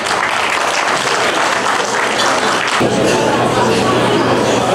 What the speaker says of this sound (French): Est-ce que vous pouvez applaudir pour lui